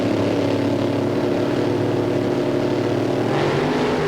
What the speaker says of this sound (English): both drivers will bring the RPMs way up, then they'll inch forward and the starter will let them go.